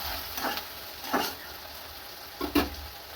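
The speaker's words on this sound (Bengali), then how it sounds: "এগুলো পেঁয়াজ ভাজা হবে।" Onions, mixed with salt and oil, fry in a pan for a spicy chicken curry. A steady sizzling hiss runs throughout, with three short louder bursts as they are stirred. No one speaks.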